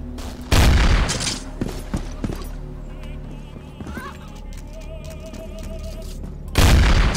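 Gunfire in the video game Counter-Strike 2: two loud bursts of shots, one near the start and another near the end, with quieter in-game clicks, steps and effects between them.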